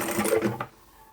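A sewing machine back stitches through scrap fabric in a quick, close mechanical whir that lasts about half a second before stopping.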